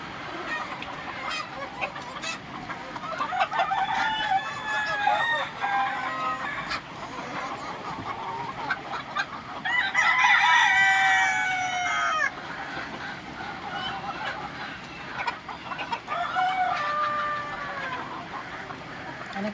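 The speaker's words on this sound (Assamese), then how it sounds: "সেইটো চাওক মুৰ্গীবিলাক" Poultry on a chicken farm keep up a busy chorus of clucking, with several rooster crows standing out, loudest near the middle, over a low background murmur.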